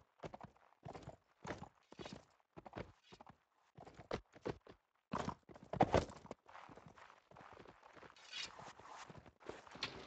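A courser horse's hooves clop in a fast, uneven rhythm as it moves across the ground in a video game, with crisp distinct hits and a brief louder cluster partway through.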